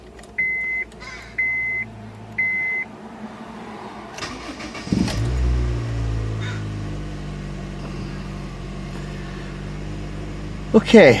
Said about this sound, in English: Let's turn the engine on.